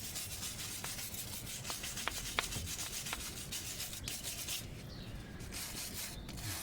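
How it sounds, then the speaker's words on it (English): Wire brush scrubbing the hub mating face of a Land Rover Discovery 2 during a hub bearing job, a steady close rasping rub with a few sharper scratchy strokes and no talk. "I now need to just clean this face up with a wire brush"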